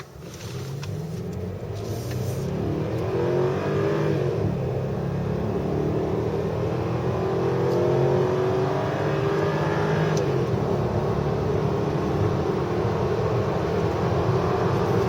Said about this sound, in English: let you listen to the engine as we accelerate down this mountain road